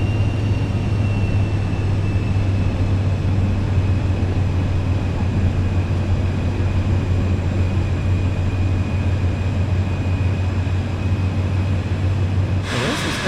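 A steady, loud aircraft engine drone at takeoff in Microsoft Flight Simulator 2024, with constant low hum and a faint high whine, continuous and unbroken until a brief change near the end.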